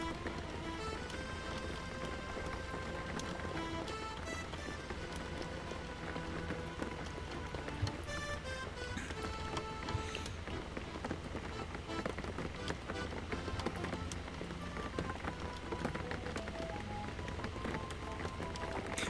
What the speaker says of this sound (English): Sorry, I'm just enjoying the rain.